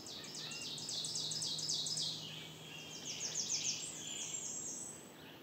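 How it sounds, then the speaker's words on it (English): Warbler song: a creaky, rapid warble that builds from soft to loud, repeated as two high-pitched phrases over faint background hiss. "It's a creaky warble, which always crescendos from soft to quite loud."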